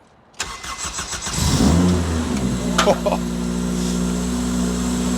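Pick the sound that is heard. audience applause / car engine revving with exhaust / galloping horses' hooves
car engine revving with exhaust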